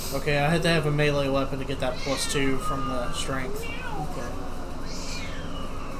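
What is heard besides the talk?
cat meowing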